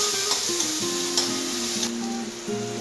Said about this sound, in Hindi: अब हम इसमें प्याज डाल देंगे जो कट रखा था हमने काट के। 2 मिनट तक इसको भून लेंगे हाई फ्लेम पे